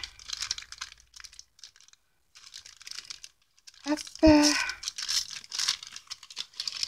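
Gift wrapped in paper being unwrapped at a home crafting table, with soft crinkling and rustling in bursts, a short pause, then a louder tearing crackle; a voice speaks briefly over it.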